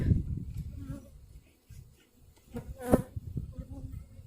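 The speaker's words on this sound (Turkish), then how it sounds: "diğer arıları nakil ediyoruz tekrar içine" Honeybees being moved back into a hive while overwintered colonies are changed over, a faint, uneven buzzing hum that swells near the end with some handling knocks.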